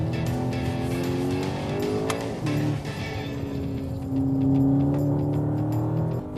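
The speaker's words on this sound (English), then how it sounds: "The 2-litre engine makes its intention clear as soon as you hit 2000 RPM." A Skoda Octavia RS 2-litre engine revs hard and climbs in pitch, shifts, then pulls again with a sustained loud roar, close by.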